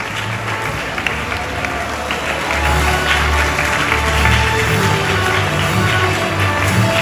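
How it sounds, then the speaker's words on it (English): Students at a school investiture ceremony clap, a crowd's applause swelling louder midway and holding as a broad, sustained patter mixed with some voices. "Please give them a huge round of applause."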